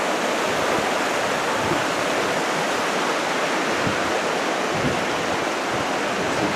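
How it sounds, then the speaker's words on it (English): A river rushes steadily beside an eroded, damaged bank, giving a dense, continuous broadband roar with no pauses and no voices. "This is alongside the river."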